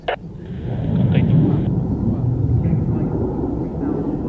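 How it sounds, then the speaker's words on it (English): A Belgian air component General Dynamics F-16AM Fighting Falcon in a flying display at the Royal International Air Tattoo 2022, a deep, rumbling jet roar that swells and holds loud while a commentator talks over it. "Certainly putting it through its paces with the Belgium air component, with the General Dynamics F-16 AM Fighting Falcon."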